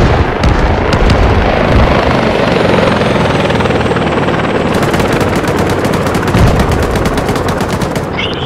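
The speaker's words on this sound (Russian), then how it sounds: "По вертушке стреляет кто-то." A military helicopter in ArmA 3 roars loudly up close, hit by heavy gunfire. Rapid machine-gun bursts and booms crackle over the steady rotor drone, with a sharp run of evenly spaced shots near the end.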